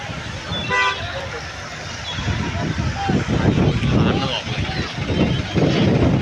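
Vehicles arriving continuously at Harnai fishing harbour during a fish auction, with a short horn toot near the start, then passing traffic and crowd noise under close talking.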